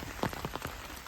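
Rain patters onto wet, muddy ground in a village during the rainy season, with a brief run of close, soft drops and splashes over steady hiss.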